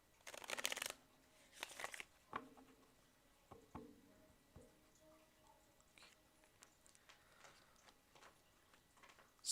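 Tarot cards riffled and shuffled by hand during a reading, with two loud bursts of card flutter at the start followed by softer scattered ticks and slides of the deck.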